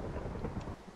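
Rumbling thunder with steady rain in the Minecraft video game, a dense, loud wash of low roar and hiss filling the whole moment, with no talk.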